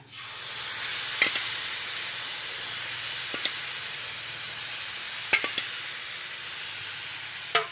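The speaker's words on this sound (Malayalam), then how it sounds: "തീ അണച്ച ശേഷം തൈര് ഒഴിച്ചു കൊടുക്കുക" Curd is poured into a hot pan of wilted ginger and onion after the heat is switched off, raising a loud, steady hiss and sizzle with a few light clinks near the end.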